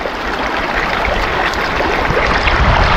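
Water rushing steadily through a gold sluice set in a stream under a bridge, a continuous broadband wash with gurgling, close and fairly loud, with no talking.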